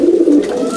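A breeder pigeon gives a soft, low, rolling coo, close and continuous for under a second, with no talk over it.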